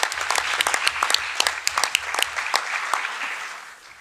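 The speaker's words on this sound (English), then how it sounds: "Can we give them a round of applause, please?" Warm round of applause from the audience at a school board meeting, lively clapping that stays strong for a few seconds before fading out.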